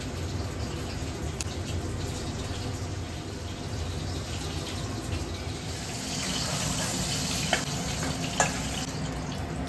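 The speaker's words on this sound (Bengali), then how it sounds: "এবার জলটা গরম করে একটু হলুদ দিয়ে কচুরলতিটাকে ফুটিয়ে নিচ্ছি" Taro stolons boil in a pot of hot turmeric water. The steady bubbling hiss grows a little busier toward the end, with a couple of faint clicks.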